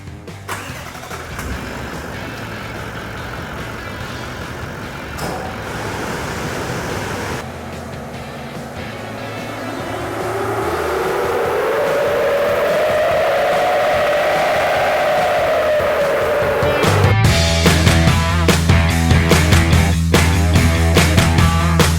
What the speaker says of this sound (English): We're going to start by putting this thing on the dyno.